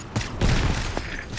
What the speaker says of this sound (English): Oh, a heavy sniper.